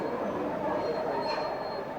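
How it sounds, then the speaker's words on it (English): A model railway freight train rolls slowly toward a stop on a detailed layout, a soft steady rumble of small wheels with a faint high squeal, no voices. "As the freight draws to a stand, we can see the detail incorporated on the platforms."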